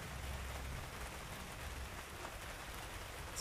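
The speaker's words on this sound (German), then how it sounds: "Es fängt hier gerade an zu regnen" Rain begins to fall outdoors, a soft continuous hiss of drops with a faint low rumble, quiet and even throughout with no one speaking.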